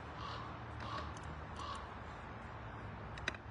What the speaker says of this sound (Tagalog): Nangangapit bahay yung uwak na yun eh.